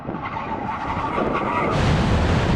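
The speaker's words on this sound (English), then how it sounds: "see if Mark can actually stop his car properly" A Lamborghini Aventador brakes hard after a drag race, its tyres skidding in a loud, rough, sustained roar of tyre noise and engine that grows harsher toward the end, with no talking.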